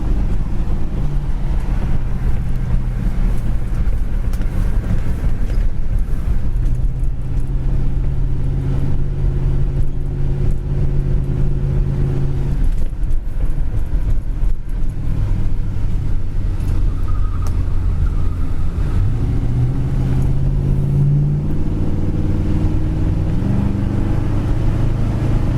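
A 1968 Ford Galaxie's engine and dual exhaust drone steadily while driving, with a low rumble that rises and falls as the car changes speed, and some wind noise mixed in.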